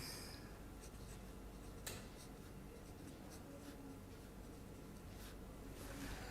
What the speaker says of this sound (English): Let me just draw a rough sketch.